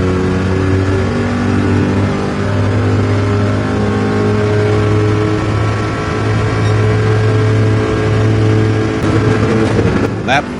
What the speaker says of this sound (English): The Corvette charges forward